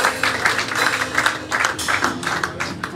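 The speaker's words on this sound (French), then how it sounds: "Il y a un applaudissement maintenant." A church congregation claps during a Sunday worship service, a steady rhythmic patter of many hands beating in regular pulses, moderately loud and close, with no voices over it.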